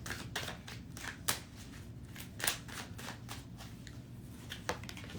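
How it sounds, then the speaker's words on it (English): Quiet crisp riffling and snapping of cards being shuffled, in repeated short bursts with soft clicks between them. "I shuffled the hell out of them cards"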